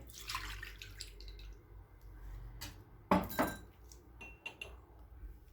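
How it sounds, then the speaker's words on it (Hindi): Milk is poured into an open bowl in a kitchen, a soft trickling splash amid light clinks of glass and utensils, quiet and close with no talk. "इसमें दूध शामिल करेंगे,"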